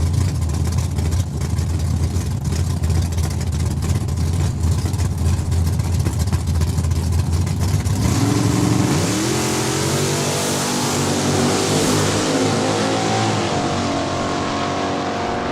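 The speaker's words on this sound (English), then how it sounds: "our next pair, both out of Regina Racers, is Jake Fiesel with his Camaro" Camaro and Oldsmobile drag racing at Saskatchewan International Raceway, a loud sustained engine roar that shifts into a rising, revving wail as the cars accelerate away down the strip.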